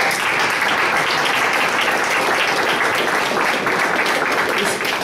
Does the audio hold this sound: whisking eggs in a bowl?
no